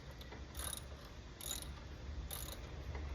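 A ratchet wrench clicks while tightening a bolt that has broken inside a 2014 Harley-Davidson Street Glide motorcycle, heard as three short rapid ratcheting bursts, close up, over a steady low hum.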